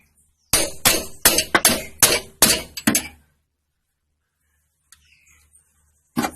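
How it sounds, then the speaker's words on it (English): One wrench is hammered with another to seat it onto a flare nut while removing a Nissan Navara steering box. About eight sharp metallic strikes come in quick succession, then silence with a few faint ticks and one final knock. "I'm going to have to use another wrench to basically impact it."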